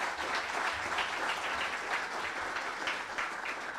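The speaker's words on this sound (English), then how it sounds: "Let's please give them a big round of applause." Audience at a city State of the City event gives a round of applause for a panel, steady continuous clapping filling the room at moderate volume with no talk over it.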